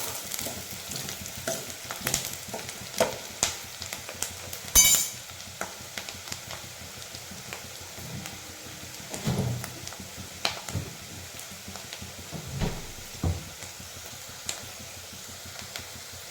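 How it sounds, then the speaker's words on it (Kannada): Onions fry in a pan for egg gravy, a soft, close sizzle broken by intermittent scraping and stirring clatters, including one sharp metallic knock near the start. "ಆನಿಯನ್ನಲ್ಲಿ ಟೇಸ್ಟ್ ಚೆನ್ನಾಗಿ ಬರುತ್ತೆ, ಅದು ಸ್ಮೆಲ್ಲು ಚೆನ್ನಾಗಿರುತ್ತೆ. ಆ ರೀತಿ ಫ್ರೈ ಮಾಡ್ಕೊಳ್ಳಿ."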